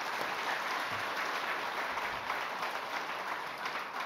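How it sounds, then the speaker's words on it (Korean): A church congregation applauds after a hymn, a dense even wash of clapping that sounds somewhat distant and soft, holding steady throughout. "박수 한번 더 합시다."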